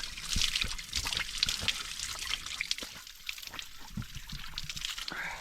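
Cold natural water on a hilltop trek is splashed onto a face by hand, giving soft drips and trickles with small splashes, faint and close.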